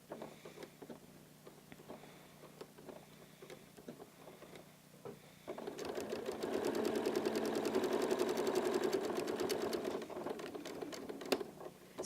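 A home sewing machine stitches a quilted placemat, starting with scattered clicks and handling noises, then settling into a steady, fairly quiet run of rapid rhythmic stitching for several seconds.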